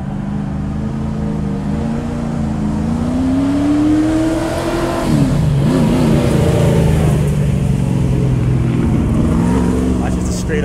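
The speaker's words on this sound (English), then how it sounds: "That's just a straight up race car." A race car engine in the Hill Climb Racing 2 mobile game revs loudly and steadily for the whole stretch, its pitch climbing, dipping sharply midway, then rising again, with people talking over it.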